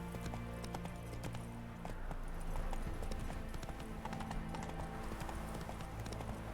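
Roach the horse gallops in The Witcher 3, hooves pounding in a fast, continuous clip-clop rhythm heard close and steady, over a low background hum, with no one speaking.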